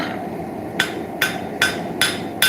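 Hammer blows forging a railroad spike, five sharp metallic strikes spaced roughly half a second apart, loud and close over a low steady background hum.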